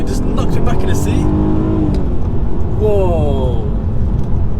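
An ABT-tuned Audi A3 3.2 V6 with DSG gearbox pulls hard, its engine note rising steadily through the revs, then dipping and climbing again after a shift, loud and continuous from inside the cabin while someone talks over it.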